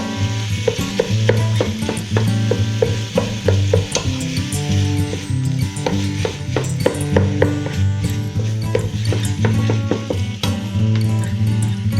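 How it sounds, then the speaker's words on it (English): Turkey meat browning in olive oil in a pot gives a constant loud sizzle and crackle throughout, with frequent metallic clinks and scrapes of a utensil stirring against the pot. "I just dumped the turkey meat in the pot with a little olive oil."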